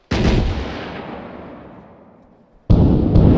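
Artillery rounds from a fire mission strike in the military game ARMA 3: a loud, close blast rolls off into a long fading rumble, then a second heavy impact hits near the end.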